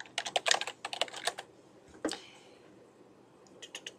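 Report title typed on a computer keyboard, a fast run of close, light key clicks, a short pause with one louder tap, then a few final keystrokes.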